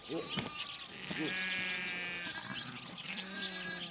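Sheep bleating in a pen at a Tibetan pasture, several overlapping bleats that come close and rise and fall over a steady background, and a voice speaks along with them.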